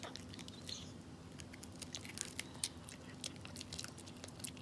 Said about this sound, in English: Hey, Rascal, you broke your stick.